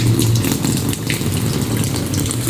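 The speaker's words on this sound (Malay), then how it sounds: "jom kita lalukan air" Water poured and splashed over GRP-coated car windshield glass, a steady close gushing and rushing with a low hum underneath, no talking.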